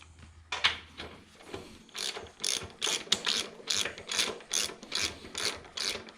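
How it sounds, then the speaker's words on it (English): Rear axle adjusters on an Indian Scout Bobber being spun loose with a ratchet, giving repeated quick clicking bursts of the pawl in an irregular rhythm, close and fairly quiet, with no talking. "we'll go ahead and spin these adjusters loose as well."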